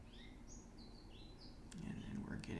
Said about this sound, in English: There's a bird that's just chirping away.